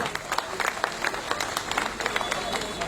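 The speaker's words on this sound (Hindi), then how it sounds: "आप तालियों से जोरदार अभिनंदन करें।" Outdoor rally crowd in Sikar, Rajasthan, clapping loudly to welcome political leaders, a dense steady patter of many hands with some crowd noise mixed in, filling the whole stretch.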